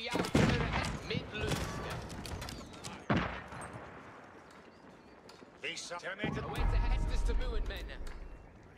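Cannons boom in an Age of Empires match between English and English on the Arabia map, with sharp volleys and rattling gunfire over a busy battle din and a voice talking over it.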